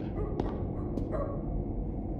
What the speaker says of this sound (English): Wait, the dog...